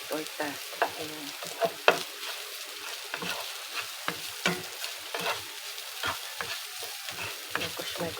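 Chow pan being stir-fried in chicken oil with leftover ground meat and omelette, close sizzling broken by sharp, irregular scrapes and clacks of the utensil against the pan, with no talk.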